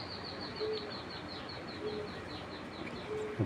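Soft, low coos repeat three times at an even pace, faint against a steady background hiss.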